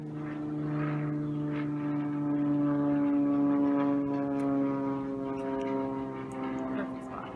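A propeller airplane flies overhead, giving a steady, fairly loud droning hum with a layered engine tone that swells slightly in the middle and holds for the whole stretch.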